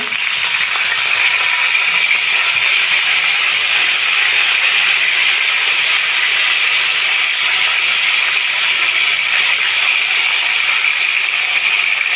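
Tomato drops into hot oil already holding bay leaves, whole cumin and chili for an eggplant dish. It sets off a loud, continuous hissing sizzle that stays even and unbroken for the whole stretch.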